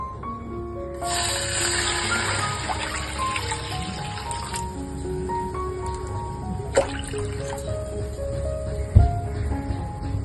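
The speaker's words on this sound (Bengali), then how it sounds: "এখানে একটা কড়া নিয়ে নিয়েছি, এর মধ্যে আমি পরিমাণ মতো জল দিয়ে নেব।" Water is poured into a kadai (wok) while making a mango drink, a steady trickling and splashing stream that begins after a brief pause and continues with occasional clinks.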